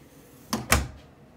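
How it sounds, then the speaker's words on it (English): Two quick knocks land on a bathroom door, close and fairly loud, the second a heavier thud, then the room falls quiet. "I'll go knock on the door."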